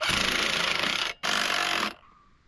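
A power tool runs loud and steady on the bolts of an ATV quad bike, stops for a moment, restarts briefly, then cuts off, leaving quiet room noise.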